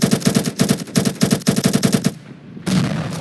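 Rapid automatic gunfire from the video game Ravenfield rattles in fast, loud bursts of evenly spaced shots, breaking off briefly before another burst starts.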